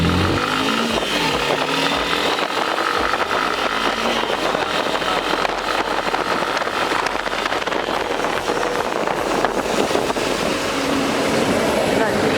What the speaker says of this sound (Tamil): இந்த பைக்கோட பிரேக்கிங் டெஸ்ட் பார்க்கலாம்.